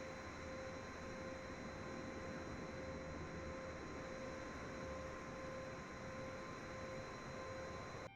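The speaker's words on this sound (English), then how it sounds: "we can now hear the APU starting at the back of the airplane" A Boeing 747-8 auxiliary power unit spins up at the rear of the airliner in the Microsoft Flight Simulator 2020 game, giving a steady, even rushing roar with a constant high whine running unchanged throughout.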